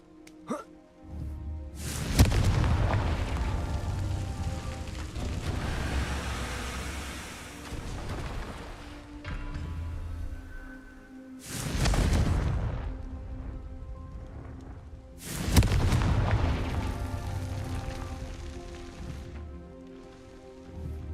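Fiery Confringo spell blasts in Hogwarts Legacy on Xbox Series X, three loud booming bursts spaced several seconds apart, each with a rumbling low-end roar that decays slowly into crackle.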